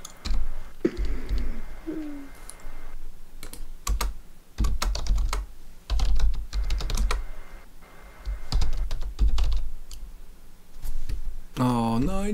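Typing on a computer keyboard during a PS4 game livestream, with irregular bursts of close keystrokes and pauses, and brief background sounds in between.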